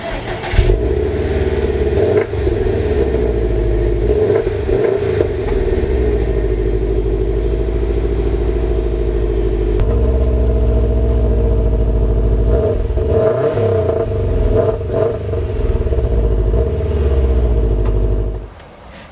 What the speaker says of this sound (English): which you can actually get a performance exhaust for this car, but even without it, it still sounds pretty great.